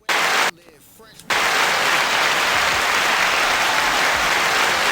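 Dense crowd applause with cheering pours in loudly at a Philadelphia hip-hop performance. It dips briefly near the start, then swells back and holds a steady roar of clapping to the end.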